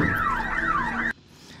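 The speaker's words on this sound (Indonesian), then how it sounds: "Dia menyalakan alarm mobil yang terparkir" A parked car's alarm wails on a rooftop parking deck, a loud, steady, repeating up-and-down siren sweep that cuts off abruptly.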